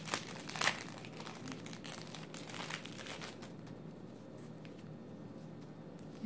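Crinkly plastic packaging around planner bands and paper clips being opened, a steady close-up crackling and rustling with a few sharper crinkles early on, fairly quiet.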